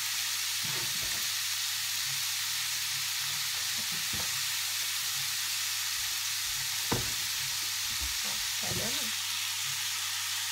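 Pizza ingredients browning in a hot pan for a Turkish-style pizza, giving a steady broad sizzle and hiss throughout with occasional stirring clatter and scrapes, close and continuous, no talking.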